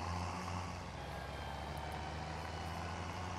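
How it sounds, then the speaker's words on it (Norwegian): A truck in Farming Simulator 2019 lets off the throttle, a steady loud engine drone with low rumble and a hissing, whooshing release texture running continuously throughout. "Og så er det veldig tøff lyd når han slipper gasen, da."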